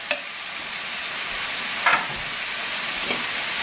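Onions sizzling and frying steadily in a pan, a continuous bright hiss with a few louder crackles and stirring scrapes, no voices.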